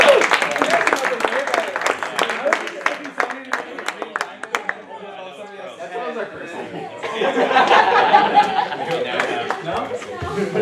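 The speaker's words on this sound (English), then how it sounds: "All right, everybody, give him a round of applause." Audience at a game development club meeting breaks into a round of applause, sharp claps for several seconds that fade into chatter and laughter.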